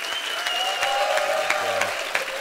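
A television studio audience at a music entertainment show claps in a steady, sustained round of applause, with dense overlapping hand claps at moderate volume.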